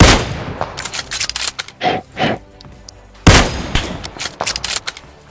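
Gunfire in a battle royale video game: sharp shots and short bursts crack close and loud, with a heavy sustained volley in the middle and scattered shots around it.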